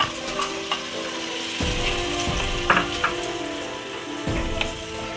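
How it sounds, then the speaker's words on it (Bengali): Sliced onions frying lightly in hot oil, a steady loud sizzle with scraping and clattering from a utensil, no speech. "এবার আমি এখানে তেলটা গরম করে নিয়েছি, নিয়ে এবার পেঁয়াজটা হালকা করে ভেজে নিচ্ছি"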